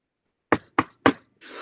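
Three sharp, evenly spaced knocks on a wooden door in a Macbeth stage scene, close and loud, with a brief rustling noise trailing after.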